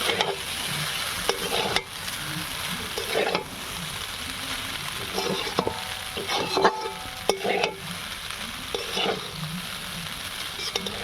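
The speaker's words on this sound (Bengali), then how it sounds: "নুনটা দিয়ে আবার একটু নেড়ে নেব।" A spatula stirs egg chow mein in a pan after salt goes in, steady frying sizzle under repeated scraping and tapping strokes against the metal, close and continuous without speech.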